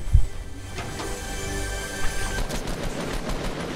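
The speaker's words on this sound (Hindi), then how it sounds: "गोली चला रहा" Rapid bursts of automatic gunfire in Fortnite crackle over a constant background din, the shots loud at first, then continuing steadily.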